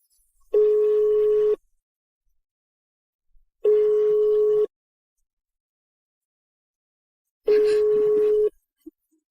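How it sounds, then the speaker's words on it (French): A telephone ringback tone repeats three times as the call goes unanswered, each steady buzzing tone lasting about a second with long silent gaps between, clear and close. "Réponds à ton téléphone, Serena."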